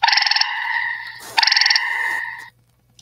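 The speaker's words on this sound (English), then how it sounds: "Gray tree frogs, if you're by any water or by any woods, you might hear them. And this is what they sound like." Gray tree frog calling near water and woods, two loud, close, rapid pulsing trills with a short gap between them, ending in quiet.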